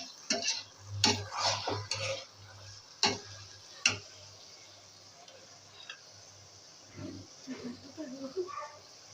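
Carrot halwa being stirred in ghee in a pot, with scraping and clinking of a spoon in irregular bursts, close by, under a steady low hum, with brief speech in places.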